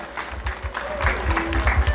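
Crowd applause at a neighborhood carnival and coronation night in El Barrio Calvario, San Alejo, steady clapping with a low rumble, close and fairly loud throughout, with a faint sustained tone and voices mixed in.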